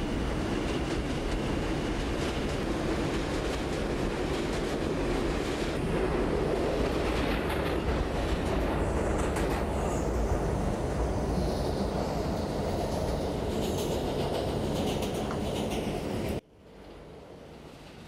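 R160 subway train on a Brooklyn-bound R local in the Openbve simulator, running with a steady loud rumble and rail clatter throughout, then cutting abruptly to a quieter hum near the end.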